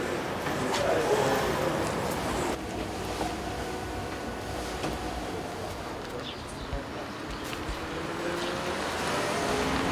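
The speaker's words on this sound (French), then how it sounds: "Nous sommes en train de rouler sur un chemin piétonnier à côté du Learning Center qui est fait avec du petit gravier." A driverless automatic shuttle rolls along a fine-gravel pedestrian path on a university campus, giving a steady close rumble and crunch of tyres with faint whining tones running under it throughout.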